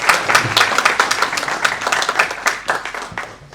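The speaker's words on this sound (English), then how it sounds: "Please give him a big round of applause." An assembly audience gives a big round of applause, dense steady clapping from many hands that fades slightly toward the end, with no speech over it.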